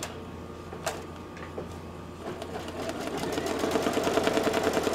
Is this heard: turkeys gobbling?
no